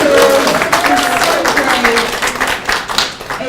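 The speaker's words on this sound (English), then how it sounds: "give yourselves a round of applause" Hackathon audience in Athens, Greece applauding, dense and loud continuous clapping with some cheering voices mixed in throughout.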